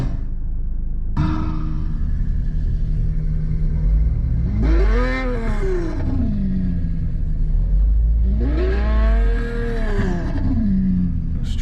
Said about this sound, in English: let's go for a V12.